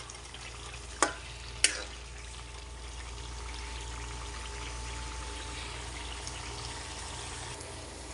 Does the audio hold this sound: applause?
no